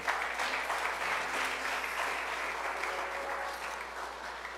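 A church congregation claps steadily at a Spanish-language service, a continuous even wash of applause heard from a slight distance and holding at the same level throughout.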